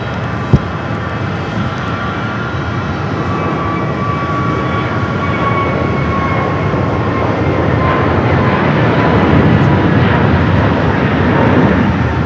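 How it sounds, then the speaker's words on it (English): An Embraer Legacy 450 business jet arrives on runway 25 left at Phoenix Sky Harbor, its engines a loud, continuous whooshing roar that swells slightly toward the end, with one sharp click near the start. "Embraer Legacy 450, next arrival here on the south side at 25 left."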